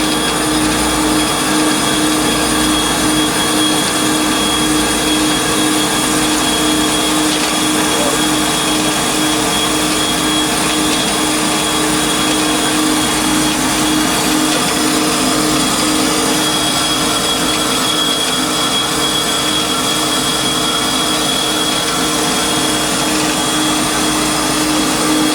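A 1998 Amada HFA500CNC horizontal band saw making a crop cut through metal bar stock: a loud, steady mechanical whir and hum with a sustained tonal whine, unbroken from start to finish and with no voices.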